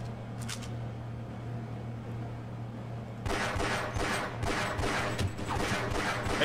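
Gunfire from a guard shooting in Half-Life: Blue Shift, a steady hum giving way to a loud stretch of rapid popping shots that keeps on to the end.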